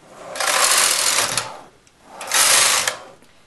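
A domestic knitting machine carriage is pushed across the needle bed to knit two rows of drop lace, making two loud, steady mechanical whirring passes, each lasting about a second and a half, with a short quiet gap between them.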